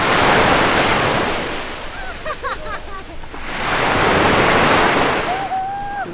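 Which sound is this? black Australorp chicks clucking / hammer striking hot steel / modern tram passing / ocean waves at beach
ocean waves at beach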